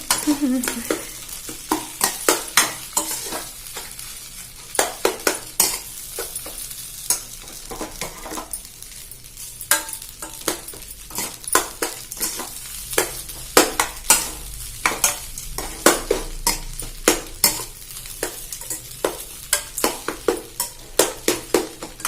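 Crumbled idli for upma sautéing in an oiled pan, a low sizzle under repeated sharp scrapes and clinks of a spoon stirring against the pan, irregular and close throughout with no talk.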